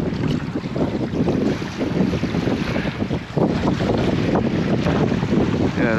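Steady wind buffets the microphone aboard a small fishing boat out at sea on the south coast, with water sloshing against the hull in a continuous loud rush.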